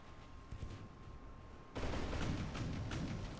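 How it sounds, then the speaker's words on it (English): Six-inch secondary naval guns firing in the warship game Ultimate Admiral: Dreadnought, starting as a sudden loud, dense volley of overlapping gunfire that keeps rumbling on after a quieter stretch of battle noise. "Looks like the 6-inch guns have started firing"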